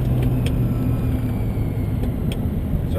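A 650 rwhp VE SSV Ute with a T400 gearbox accelerates moderately through a long curve, a steady low engine rumble heard from inside the cab.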